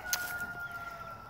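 Chickens in a backyard coop shared with a goose, heard at chore time while eggs are gathered; a brief squawk near the start gives way to faint, steady fowl sounds over a thin tonal hum.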